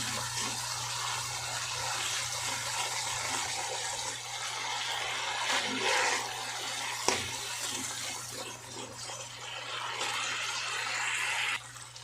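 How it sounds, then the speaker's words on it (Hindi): Water is poured into masala cooking in a pan for garadu curry, making a continuous splashing, sizzling wash of sound with a few brief clinks and no talking. "अब इस स्टेज पर हम इसमें थोड़ा सा पानी डाल करके मसालों को और पकने देंगे।"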